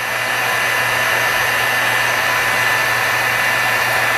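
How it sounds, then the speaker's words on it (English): A heat embossing tool blows hot air close by in a steady, loud, unbroken whir with a constant tone and no pauses or talking. "We're gonna take our heat tool that I got someplace here."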